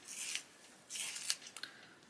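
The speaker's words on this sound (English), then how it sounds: "I'm just going to sharpen my Prisma." A Prismacolor colored pencil is turned in a hand sharpener, giving faint, close scraping rasps in a few short bursts, quiet and with no talk.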